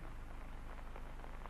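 Steady rain falls outside a basilica, a dense continuous patter of drops on surfaces forming an even hiss throughout, with no voices.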